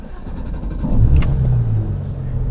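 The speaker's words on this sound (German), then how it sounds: "dann schmeißen wir den Wagen jetzt erstmal an" A Porsche GT3 RS on the Grossglockner pass road fires up, its engine catching with a sharp burst near the one-second mark and then settling into a loud, steady rumble close by.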